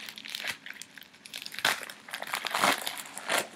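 Pink plastic mail packaging torn open by its pull tab, close crinkling and crackling in several irregular bursts, with sharper rips near the middle and end, no talking.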